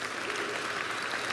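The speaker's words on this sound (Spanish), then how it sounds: "Dale un aplauso fuerte a Dios." Church congregation applauding loudly for God during a Spanish-language service, a steady dense wash of clapping that stays even throughout.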